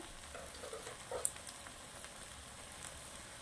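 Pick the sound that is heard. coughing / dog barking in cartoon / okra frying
okra frying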